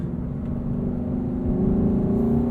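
Exhaust note of a 2018 Lexus LC 500 while driving, a steady throaty engine drone heard from inside the cabin, swelling slightly as it accelerates, with no talking.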